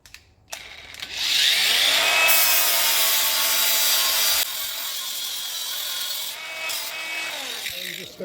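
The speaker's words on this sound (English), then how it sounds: "so just going to have to do a bit of a grind on there and see if I can clean it all off" An angle grinder works over welds on metal bird bath leaves made from recycled metal, spinning up and holding a loud, steady high whine with a shift in pitch midway before winding down.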